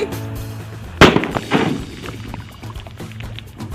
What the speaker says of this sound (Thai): ตอนนี้เราก็จะทำการจุดลูกประทัดอีกสักหนึ่งลูกนะ เพื่อทำการขยาย ที่นอนของปลาให้มันใหญ่ขึ้นนะครับ